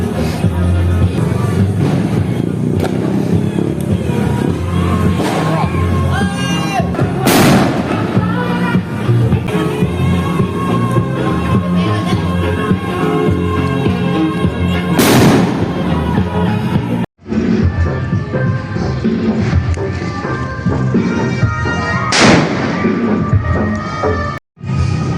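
Firecrackers and fireworks explode on New Year's Eve in the Philippines, a dense, loud barrage of bangs and crackling bursts with several sharp, heavy blasts standing out, running almost continuously with brief gaps.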